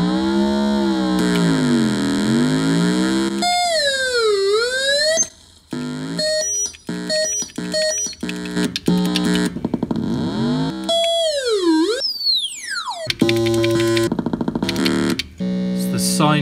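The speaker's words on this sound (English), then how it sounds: "It's the sine wave, the triangle, and the square." A 1994 Maplin DIY waveform generator built from a kit puts out loud electronic tones in sine, triangle and square waves, sweeping up and down in pitch with abrupt switches, gaps and changes of timbre.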